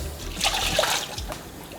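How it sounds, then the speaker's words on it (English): Water trickles and splashes onto a cast iron skillet in a sink while it is scrubbed, a steady close splatter with brief sloshes. "Put some water on it."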